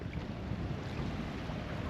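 A strong gust of wind buffets a boat at anchor with its chain out, producing a constant broadband rush of wind noise on the microphone, with faint water movement beneath and nobody speaking.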